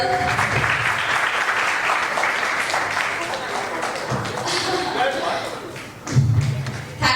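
Audience applauding at a corporate rewards and recognition event, a steady wash of clapping sustained throughout with some voices and a few thumps mixed in, loudest near the end.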